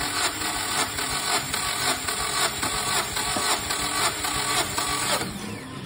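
A 2007 Nissan Almera 1.6 engine cranked over by the starter during a cylinder compression test, giving a rapid, even train of mechanical pulses for several seconds before it stops near the end.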